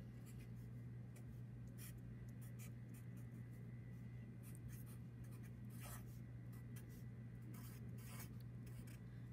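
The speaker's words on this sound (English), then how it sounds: "I'm going to write my equation just like my original" A pen or pencil writes out a chemical equation on paper, producing soft, continuous scratching with scattered sharper strokes over a steady low hum, close and faint, with no talking.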